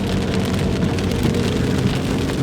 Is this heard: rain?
yes